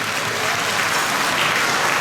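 An audience at a church anniversary thanksgiving dinner breaks into loud, sustained applause, thick and continuous from start to end.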